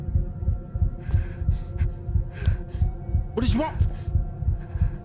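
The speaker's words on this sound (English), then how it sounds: "Why's my heart beating like that, dude?" A heartbeat effect from a karaoke horror video game thumps steadily and close, a regular low pulse with a droning hum, while someone speaks briefly over it.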